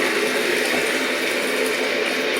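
Really hot water gushes into a tub holding a laundry basket and Persil detergent, a loud, steady broadband rush of pouring and splashing with no pauses.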